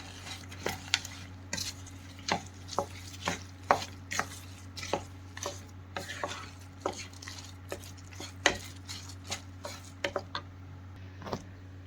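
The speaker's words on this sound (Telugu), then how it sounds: "జాజికాయ పౌడర్ ఇలాచీ పౌడర్ మొత్తం యాడ్ చేసేసుకొని ఒకసారి కలిపేసుకుందాం" Nutmeg and cardamom powder with jaggery powder being stirred into Satyanarayana prasadam in a pan, a steady run of spoon scrapes and taps against the metal over a constant low hum, fairly close and without voices.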